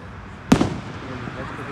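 A single loud firework bang on Independence Day cracks out sharply and rings off into a fading rumble, set against a low outdoor background.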